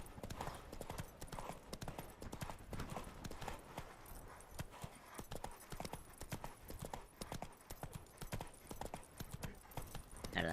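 Horse hooves clip-clopping steadily in The Witcher 3, a quick even trot of hoofbeats, faint and continuous throughout.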